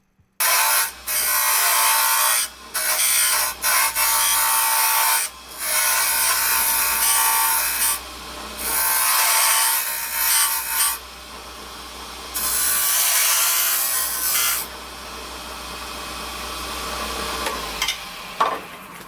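A woodturning lathe cuts a tenon on the top of a wooden salt and pepper mill body from a project kit, giving a loud, continuous scraping hiss in long passes broken by short pauses, with no talk.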